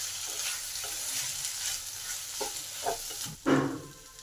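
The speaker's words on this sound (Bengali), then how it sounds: "টমেটো সসটাকে ভালো করে পাস্তার সাথে মিশিয়ে নেব।" Pasta being stirred together with tomato sauce in a hot pan: close scraping and sizzling with irregular utensil strokes, building to a louder stir near the end, no voices.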